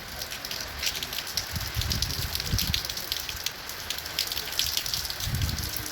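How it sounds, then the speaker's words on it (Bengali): Heavy rain pours at a plant nursery in Swarupkathi, Barishal, a dense, constant hiss of drops hitting surfaces heard from under shelter, with occasional low gusty swells. "বন্ধুরা, বৃষ্টি আর থামছে না"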